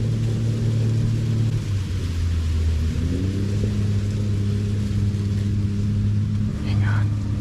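Vehicle engines rumble past very close to a campsite at night, a low steady drone that shifts pitch as they pass, with quiet voices talking nearby.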